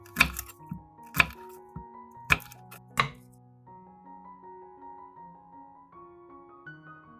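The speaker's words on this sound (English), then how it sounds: "Cut the garlic into thin slices." A knife slicing garlic into thin slices on a board gives four crisp knocks spaced about a second apart over soft background music, then only the music carries on.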